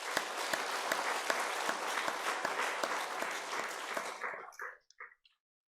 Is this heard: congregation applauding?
yes